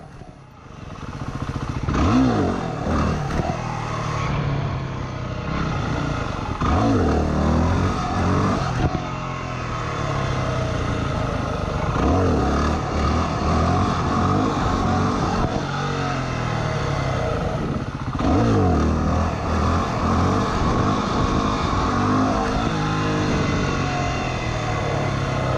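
A Yamaha WR250R dirt motorcycle being ridden at practice, its engine revving loudly and continuously with repeated rises and falls in pitch, plus some clatter over rough ground, heard close and without talk.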